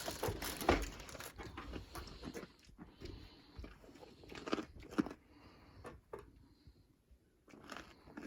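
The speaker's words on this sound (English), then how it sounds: "They can hear the crunch of carrots a mile away, I do believe." An animal crunches carrots taken from a bucket, with repeated crisp biting and chewing crunches at close range, irregular in rhythm, with brief quieter pauses between bites.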